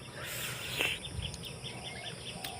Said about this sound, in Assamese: চৰাই মাত